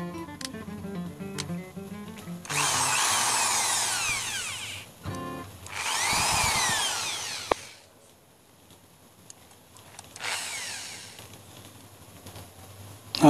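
A Ryu power drill whirs in three separate bursts, each spinning up loudly and winding down, with quieter mechanical clicks and handling noises between them.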